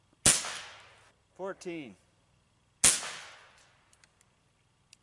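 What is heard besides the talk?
Benjamin Discovery air rifle shots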